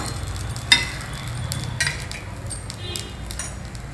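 Cucumber dosa cooking on a tawa with a few drops of oil or ghee, a soft steady sizzle punctuated by light scraping and clinks of a spatula, no talking.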